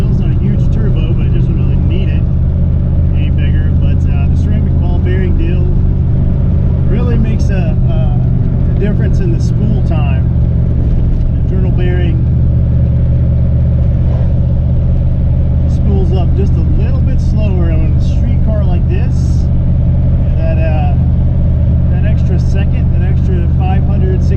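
A turbocharged Ford Foxbody Mustang with a ceramic ball bearing turbo drones steadily from inside the car on the street, loud and constant, with someone talking over the engine at times.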